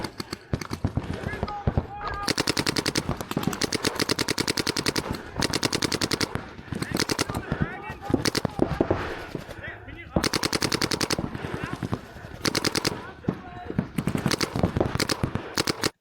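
Dense bursts of rapid automatic gunfire from a shooter video game, loud and close, firing in long rattling strings with brief pauses while a person talks over the shooting.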